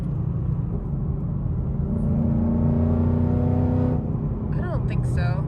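A Subaru WRX STI on its stock exhaust gives a deep, close rumble. It revs up, holds a higher droning pitch for a couple of seconds, then drops back and blips again.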